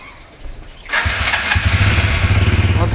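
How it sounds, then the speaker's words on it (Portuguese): A motorcycle engine cranks and catches, then settles into a loud, steady, rhythmic idle close by, heard alone without talk. "Vou estar ligando a moto aqui."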